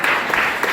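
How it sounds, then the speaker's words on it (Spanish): A church congregation applauds, a loud, dense burst of many hands clapping together, close and continuous with slight surges in intensity. "Ahora denle otro aplauso fuerte al Señor"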